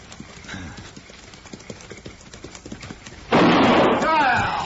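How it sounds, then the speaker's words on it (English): Horse hooves clip-clop steadily as a horse-drawn buckboard wagon rolls along a level desert trail by a dry lake in an old western setting, then a loud burst like a gunshot cuts in near the end. "when the buckboard came into the turn where the trail leveled off to border a dry lake"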